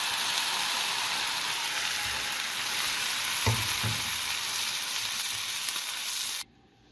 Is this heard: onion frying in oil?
yes